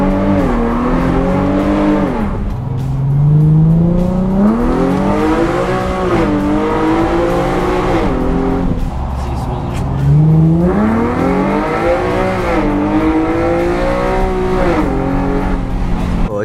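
An Infiniti G37S running without a hood revs hard through repeated acceleration pulls, with rising and falling engine tones sweeping up in long waves, loud and close throughout.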